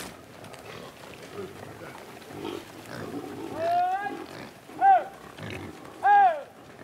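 Free-range Corsican pigs living outdoors in the mountains, giving three sharp, rising squeals over low grunting and snuffling, with voices murmuring in the background.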